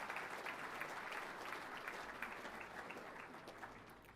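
A seated crowd at a football club premiership reunion luncheon gives a round of applause: steady, even clapping from many people, fairly quiet and distant, with no voices standing out.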